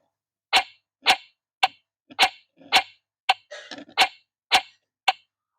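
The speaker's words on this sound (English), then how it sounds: "that's when it lands in the sand." A desktop crazy golf toy plays its ball-in-the-sand sound effect: a string of about ten short, sharp electronic ticks at an even pace, close and clear, with one rougher burst partway through.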